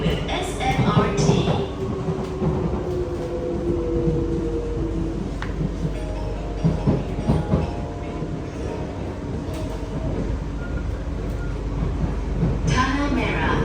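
An SMRT Kawasaki train runs on Singapore's Circle Line between Expo and Tanah Merah, with a steady rumbling interior roar, rail clatter and faint wheel squeal throughout, and brief voices audible over the running noise.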